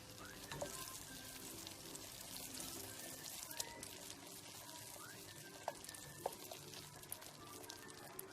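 Caramel and butter bubble and boil in a pan, a soft steady sizzle with scattered small pops and light clinks running throughout, fairly quiet and without talk.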